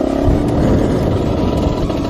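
A Derbi Senda 50cc motorcycle engine drones loudly up close, with a rough, rattling tone that stays steady and unbroken.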